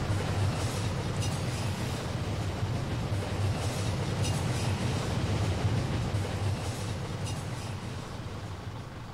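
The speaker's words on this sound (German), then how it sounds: "Der Zug kommt." A train in the video game My Summer Car passing by, a continuous loud rumbling roar of wheels on track that slowly fades over several seconds, with no talking.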